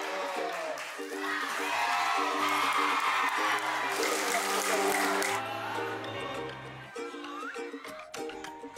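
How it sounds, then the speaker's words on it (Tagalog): A crowd applauds and cheers in welcome for a provincial governor in Pangasinan, a dense, sustained wave of clapping and shouts under music and a talking voice, easing off near the end. "matunog na palakpakan at hiyawan ang laging isinasalubong sa kanya"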